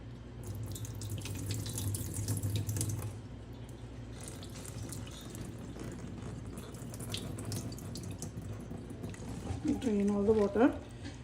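Sabudana (tapioca) pearls being rinsed in a sink under a running tap, a steady gush of water with sloshing and clinking, close and fairly loud, with a brief burst of splashing near the end.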